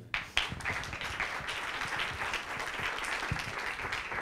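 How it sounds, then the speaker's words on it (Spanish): A crowd at a science-communication event in Granada gives sustained applause, a soft, continuous patter of many hands with a couple of louder claps at the start, heard moderately distant and without speech. "Un aplauso, hombre."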